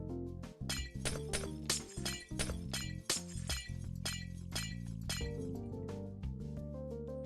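Glass blocks broken one after another in Minecraft, a rapid series of bright clinking shatters in an even rhythm over background music, each crisp and close.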